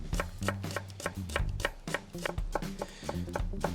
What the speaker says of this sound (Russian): потом вот такой вот тоненькой соломкой нарезаем